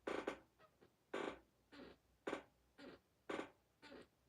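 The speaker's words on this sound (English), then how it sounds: "It's like a cartoon chair squeak." A squeaky office chair gives a cartoonish creak, repeating about six times in a steady back-and-forth rhythm, close to the microphone and with no voices over it.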